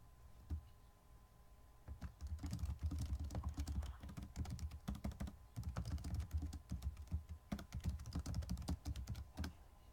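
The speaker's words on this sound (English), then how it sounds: "I'm typing down here in the corner to be cool." Someone types on a computer keyboard, a close, rapid run of crisp key clicks that comes in bursts with brief pauses between them.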